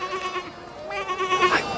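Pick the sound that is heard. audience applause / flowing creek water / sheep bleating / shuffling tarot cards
sheep bleating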